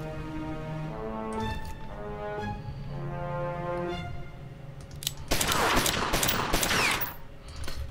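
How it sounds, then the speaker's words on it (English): Gunfire in the video game Omerta: City of Gangsters, a dense burst of shots about two seconds long that follows a stretch of tonal game music and stands out loudly against it. "Luckily, Jack missed the second shot"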